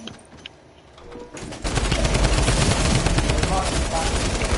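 Gunfire in Fortnite: after a quiet start, dense rapid automatic shots crackle in a loud sustained burst lasting several seconds.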